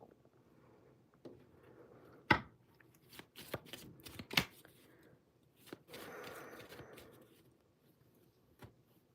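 A deck of message cards is shuffled, with a few sharp riffling bursts and soft handling sounds between them, close and fairly quiet, with faint breathy background and no talk.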